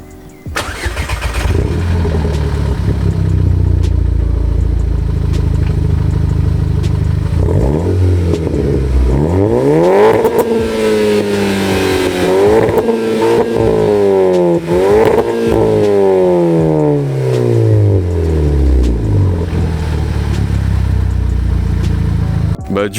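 A modified German car engine cranks and starts, settles briefly, then revs up repeatedly in loud rising and falling sweeps close by before dropping back to a steady idle.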